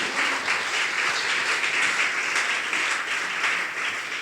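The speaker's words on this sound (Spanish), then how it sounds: "¿Cuántos dan un aplauso a eso?" A church congregation applauds during a Spanish-language sermon, loud continuous clapping from a full crowd, steady and dense throughout the few seconds with no talking over it.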